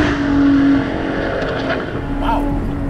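Supercharged 3.5-litre V6 of a Lotus Evora GT driving on a track, a steady engine drone with a brief rise at the start, heard from inside the car with a faint voice.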